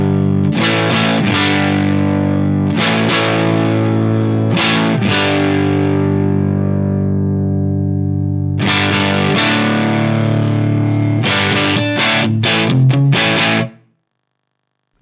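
An electric guitar runs through a Mesa/Boogie FormulaPre preamp set to a low-gain, bluesy tone, playing sustained chords and short phrases with gaps, loud and close, ending abruptly in silence.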